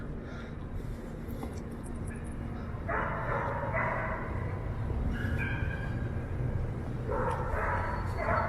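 Dogs at the Allen Gardens dog park bark in short, separate bursts at a moderate distance over steady city background noise, with a few yips between them.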